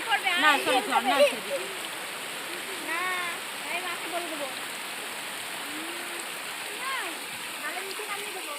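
Water rushes and splashes steadily in the Remmy river while several people talk and call out loudly over it, their voices rising and falling throughout.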